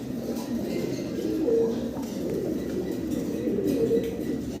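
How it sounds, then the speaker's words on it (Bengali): Fancy pigeons, a pair of black Maltese birds with tall necks, coo steadily and close by in a pigeon house, with a low continuous murmur of several birds overlapping for a few seconds. "এক পেয়ার মাল্টেস কবুতর আমরা দেখতেছি"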